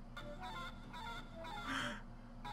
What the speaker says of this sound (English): There's a chicken over there